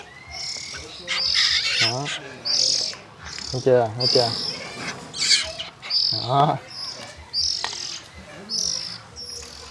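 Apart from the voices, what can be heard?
oriental magpie-robin chicks chirping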